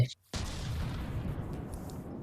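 CRAM mortar firing in the Rumble game: a heavy launch boom cuts in after a brief silence, then rumbles on as a dense, low roar of continuing fire and distant impacts.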